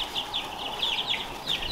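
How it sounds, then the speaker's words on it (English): Black copper Marans chicks and a young rooster peeping and calling in a homestead brooder, a run of thin, repeated high chirps at moderate distance with no talking. "These are my black French black copper marans."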